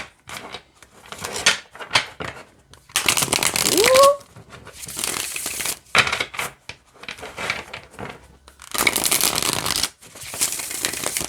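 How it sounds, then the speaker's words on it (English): A new tarot deck being shuffled in several bursts, crisp riffling and rustling up close, separated by short pauses and small handling noises. "let's see how it shuffles"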